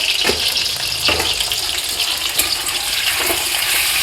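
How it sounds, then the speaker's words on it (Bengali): Potatoes sizzle in very hot oil with a little salt, a steady close frying hiss that fills the whole clip, with a few brief stirring clicks and no talking. "এবার আমি একটু লবণ দিয়ে আলুগুলো ভালো করে ভেজে নেব।"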